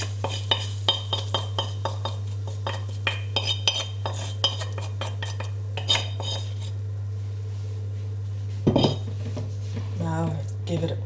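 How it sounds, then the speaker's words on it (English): Hot tempered onions with ghee are stirred into a pot of Bangladeshi khichuri, with a metal spoon clinking and scraping against the pot in quick repeated strokes. A low steady hum runs underneath, and a brief voice comes near the end. "Now give it all a stir."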